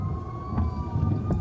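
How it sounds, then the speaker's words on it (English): A fire truck siren wailing during a torrential windstorm, a thin steady tone heard at a distance over a low rumble of traffic and wind, faint and continuous with no talking. "Y'all hear the sirens?"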